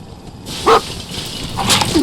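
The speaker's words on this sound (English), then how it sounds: "Those dogs don't look friendly." Wild dogs in the video game Fallout 4 let out a couple of short, sharp barks and yips, close and fairly loud.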